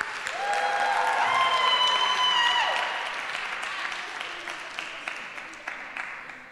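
Applause from a crowd at a youth spoken word exhibition, loud and steady at first and then thinning, with a few people talking and calling out over the clapping.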